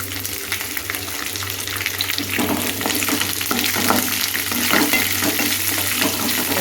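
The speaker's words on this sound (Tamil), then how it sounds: "வெங்காயம் வந்து பெருசாகவே போட்டுக்கோங்க. இது கூட பூண்டு, இது கொஞ்சம் வதங்கட்டும்" Chunky onion and garlic sauté in a hot pan with a loud, continuous sizzle and occasional stirring scrapes over a low, steady hum.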